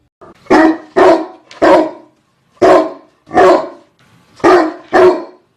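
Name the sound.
guard dog barking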